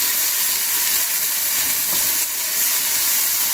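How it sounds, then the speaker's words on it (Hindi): Vegetables frying in hot oil in a pan, giving a steady, dense hiss and sizzle throughout, close and fairly loud, with no talk. "अब इसमें मैं ये सारी सब्जी को हल्का सा फ्राई कर दूंगी ताकि बहुत अच्छा स्मोकी टेस्ट आए"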